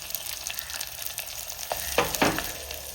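Garlic and asafoetida hit hot oil in a pan for a Tamil foxtail millet rice dish, giving a close, steady crackling sizzle with a few louder spitting bursts near the end and no voices.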